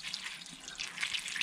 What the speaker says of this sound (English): I'm putting water in the radiator